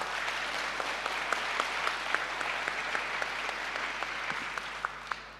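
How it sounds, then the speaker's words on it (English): Event audience applauding speakers and sponsors, a steady dense patter of many hands clapping with a few sharper individual claps standing out, continuous throughout and fading slightly at the end. "I would like to ask you now to give a round of applause to these speakers or to these sponsors who helped us make this event happen"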